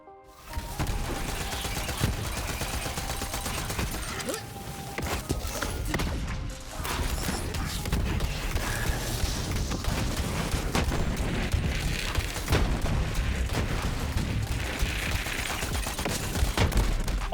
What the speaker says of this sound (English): It shoots a barrage of fast moving projectiles in a circular pattern.